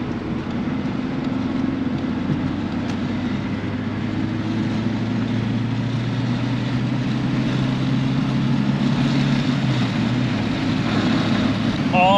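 Fantasia green VW Lupo with a 70-horsepower engine accelerating to merge onto highway 95, a loud steady engine drone with road and wind roar filling the cabin, heard from inside.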